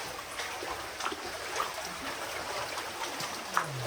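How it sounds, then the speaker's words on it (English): Small waterfall inside an abandoned mine, a soft continuous trickling and splashing of water with occasional faint drips and knocks, heard alone at a moderate distance. "There's a nice little waterfall back here"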